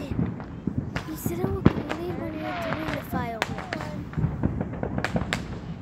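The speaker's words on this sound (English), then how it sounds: "Well, it's fireworks." Fourth of July fireworks booming and crackling in the distance, a scattered run of sharp thuds and pops over about six seconds, with people talking nearby throughout.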